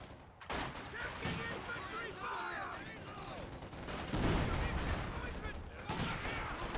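Gunfire in a competitive video game match, a dense ongoing barrage of shots and bursts filling the whole stretch with little pause.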